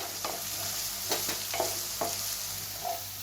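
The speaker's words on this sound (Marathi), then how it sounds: "परतून घ्यायचा आहे कांदा ना एकदम आपल्याला मऊ करायचा आहे" Onion softening in a hot pan, a faint continuous sizzle broken by a few spatula scrapes and stirs, heard up close with no talking.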